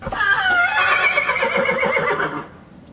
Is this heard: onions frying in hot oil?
no